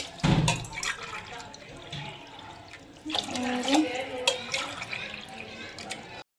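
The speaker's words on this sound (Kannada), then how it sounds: "ಸೊ ಇವಾಗ ನಾನು ನೀರು ಆ್ಯಡ್ ಮಾಡ್ತಾ ಇದ್ದೀನಿ" Water pours and splashes into a pot in two bursts, with a short pause between them, for potato biryani.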